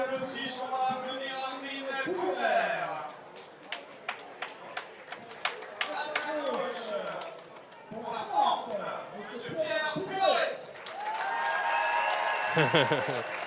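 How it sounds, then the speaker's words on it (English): Spectators at a timbersports competition applauding an athlete's introduction, with a burst of individual claps, then broader clapping and cheering swelling near the end, while an announcer talks over it. "the intro of Pierre Puy-Barré gets the big reaction from the crowd here"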